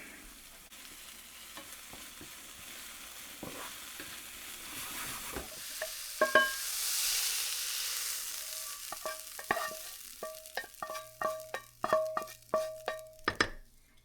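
Onions and garlic sizzle and fry in a pan, a steady hiss building midway, then a run of sharp clinks and scrapes as a utensil stirs against the metal toward the end.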